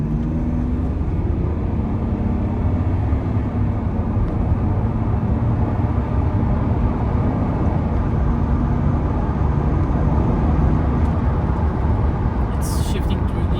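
A BMW E39 runs on a test drive just after a transmission service, with a steady, loud low rumble of engine and road noise filling the cabin and a brief higher noise near the end.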